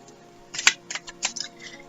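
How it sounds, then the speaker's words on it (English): A deck of oracle cards being shuffled by hand, a few quick papery riffles and slaps in short bursts, close and fairly quiet, with no talking. "shuffle the cards"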